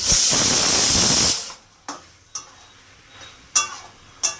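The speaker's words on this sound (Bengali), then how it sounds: "হলুদ দিলাম চিনি দিলাম এবার কষাবো খালি" Kochu shak (taro greens) with chickpeas, turmeric and sugar hits a hot pan with a loud, hissing sizzle for over a second, then quiets to a low simmer broken by a few sharp spatula clinks against the pot.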